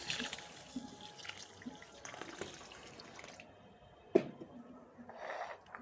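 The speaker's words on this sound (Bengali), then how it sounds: "প্রথমেই আমি চাউলটা পানি দিয়ে ভিজিয়ে দিলাম" Water is poured over rice grains set to soak before cooking for steamed hilsa and rice, giving a close, soft trickle and splash that runs on and off, with one brief sharp clink partway through.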